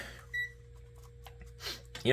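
A single short, high multimeter beep near the start, testing a Ryobi One+ lithium battery, then quiet background with faint clicks and shuffling.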